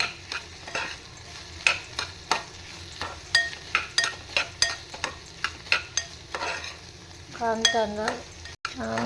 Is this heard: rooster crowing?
no